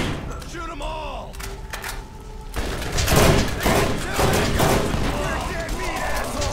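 Gunfire in Borderlands enhanced builds into a dense, repeated volley of shots and thuds in the second half, loud and close, with voices and game sounds mixed in earlier.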